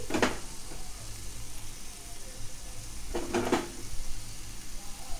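Tomato rice with chopped coriander being stirred in a pan, a spoon scraping the bottom in a few distinct strokes at the start and again later over a soft, steady sizzle.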